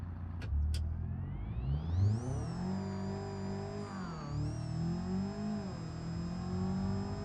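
A Ford Mustang engine in the BeamNG driving game revs up in a rising whine, then holds a steady high drone with small dips in pitch, loud and continuous with no one talking.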